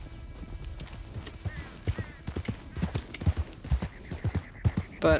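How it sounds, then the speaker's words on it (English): Horse hooves clip-clop in Red Dead Redemption 2, a steady run of close, distinct hoof falls with a brief whinny, while a person talks quietly over the game sounds. "Oh, those are horses."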